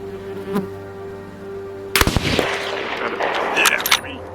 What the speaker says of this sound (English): Love that impact sound.